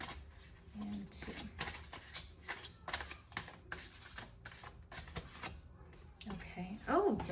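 Repeated crisp riffling bursts of an oracle card deck being shuffled, close up, several quick shuffles in a row with a soft rustle between them.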